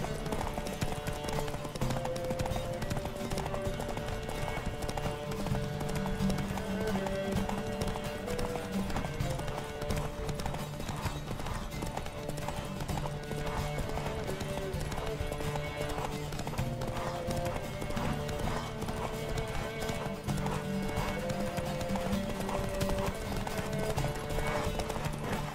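Horses galloping in The Witcher video game, a steady clip-clop of hooves running continuously under a dense layer of game music, with an occasional whinny.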